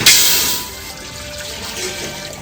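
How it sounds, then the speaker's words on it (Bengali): Water poured into a pot to cook rice, a brief loud splash at the start settling into a steady close rushing gush that carries on to the end, no voices. "এবার আমি ভাতের জলটা দিয়ে দেব।"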